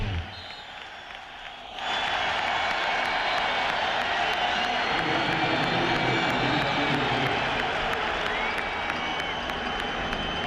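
A stadium crowd cheers at a 2000 Steelers at Jets football game, starting quiet and then swelling into a loud, sustained roar of cheering and applause that holds for the rest of the stretch.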